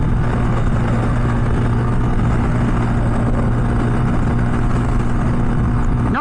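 A CFMoto Papio Racer minibike engine revving high at about 7,200 RPM while riding, a loud, continuous buzzing drone with wind rush and no pauses or speech.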